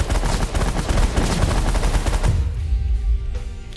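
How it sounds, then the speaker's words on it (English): Spaceship auto fire in the space strategy game The Last Federation, a dense, loud, rapid stream of shots for over two seconds, then a lower rumble as the firing drops away. "I'm actually going to go on auto fire because I want to make sure that we shoot down some of these little ships that come out."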